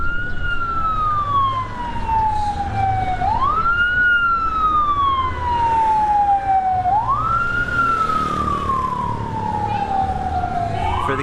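A loud wailing ambulance siren sweeps slowly up and down in repeated cycles as it passes close by, continuous, over a rumble of traffic.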